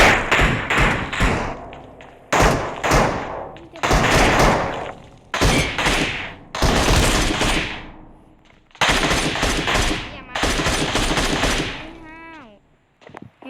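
Repeated bursts of rapid automatic gunfire from the mobile battle-royale game PUBG Mobile, loud and close, in several volleys separated by brief pauses, ending with a few quieter clicks.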